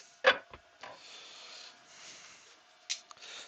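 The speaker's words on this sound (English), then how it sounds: "I suppose I should be using a 1/2 inch gouge on that really, rather than a little tiny 3/8." A small 3/8 inch gouge cuts into a wooden apple spinning on a woodturning lathe, giving a few short rasping scrapes and a brief burst, fairly faint, against a low steady hum.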